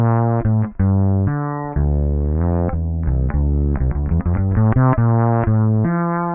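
Fretless bass played through a Ghost distortion pedal with cabinet simulation, a loud, gritty melodic line of sliding notes and quick plucked runs, with brief pauses between phrases.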